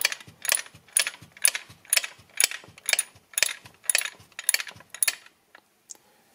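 A ratchet with a 14 mm socket tightening the starter motor bolt on a Mercedes, steady rhythmic bursts of clicking repeated about a dozen times, close and loud, then stopping.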